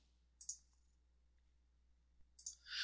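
Two quick pairs of sharp, light clicks, one early and one near the end, over a quiet low hum.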